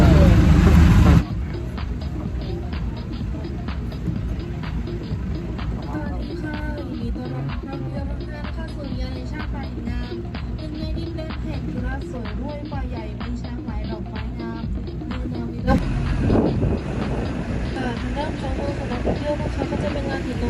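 An open-air tourist tram at a Thai flower-field park rolls along with a steady engine rumble and road noise, a louder jolt near the end, while people talk over it.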